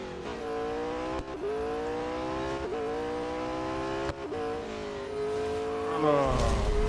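A grippy race car in the Real Racing 3 video game is driven hard around a circuit, its engine whining with rising pitch sweeps that drop sharply at each gear change, steady and continuous with a surge near the end.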